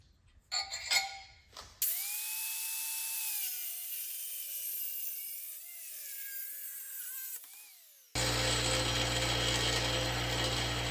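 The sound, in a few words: torque wrench ratcheting while tightening engine studs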